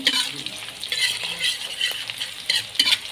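Spices, chilies and toasted coconut stirred and frying in a pan for a Betawi carp dish, a steady crackling sizzle with scraping strokes of a utensil repeating throughout, fairly close and alone.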